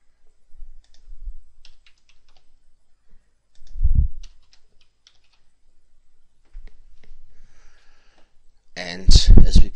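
Keys clicking on a computer keyboard in short bursts of typing, soft and close, with a few louder thumps and a voice speaking at the end.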